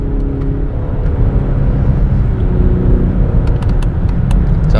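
Inside a Lexus LS 500h hybrid sedan at very high speed, a dense, steady road and wind roar fills the cabin, loud and unbroken, with faint ticking clicks near the end and no talk.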